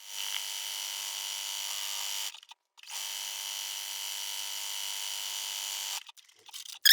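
A sewing machine top stitching a cloth napkin, running as a steady high motor whine for a couple of seconds, stopping briefly, then running steadily again before stopping.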